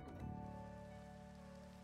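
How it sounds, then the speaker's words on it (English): Rain falls in Minecraft as a soft, continuous patter, quiet and steady for under two seconds, with no voices. "And now it's raining, because that's just the best."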